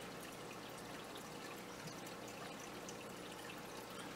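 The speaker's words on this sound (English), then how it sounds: "I got a turtle filter in the back there. Got a little waterfall thing going." The small waterfall outlet of a turtle tank filter on a standard 10-gallon tank trickles and splashes in a steady, soft wash of water that runs unbroken throughout.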